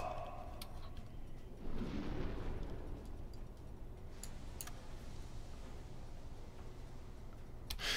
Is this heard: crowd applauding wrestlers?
no